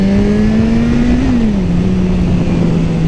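A single engine note rising then dropping as a motorbike pulls away hard, loud and close, with a strong tonal drone and no voices.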